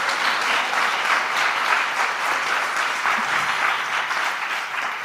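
An audience at a digital health conference session claps for the panelists, a sustained, even wash of applause lasting several seconds that eases slightly at the end, with no voices over it.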